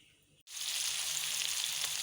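Eggs frying in a pan: after a brief quiet moment, a loud, dense sizzle bursts in and holds steadily to the end, close and without talk.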